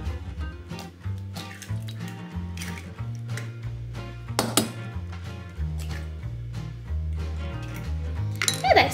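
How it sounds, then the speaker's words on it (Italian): A fork stirs eggs with sunflower oil and other batter ingredients in a bowl for savory muffins, making quick, light clinks and taps against the bowl over steady background music. "Adesso vado semplicemente a girare questi ingredienti con una forchetta"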